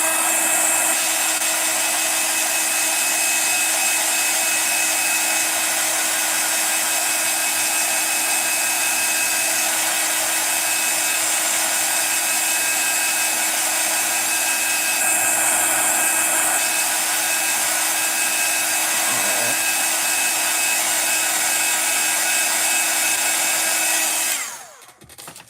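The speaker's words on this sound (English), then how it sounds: "I'm going to heat tool again." A heat tool blows steadily on puffy embossing powder for an art journal page, a continuous loud whooshing roar that holds nearly unchanged before cutting off abruptly at the end.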